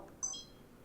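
A Foxelli 20MP trail camera gives a short electronic beep, brief high tonal chirps stepping down in pitch, faint and close over low background hiss.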